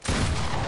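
A rapid burst of gunfire in a shooter video game, loud and dense, with booming low-end shots packed together over under a second and no talking.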